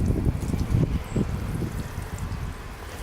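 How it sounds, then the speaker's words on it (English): Water poured from a watering can onto freshly planted vegetable seeds in a garden bed, a soft close splashing trickle that gradually eases off over a few seconds. "next step will be watering it into the garden"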